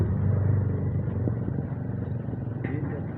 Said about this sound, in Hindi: ये हम जा रहे हैं सर्विस करने मोटरसाइकिल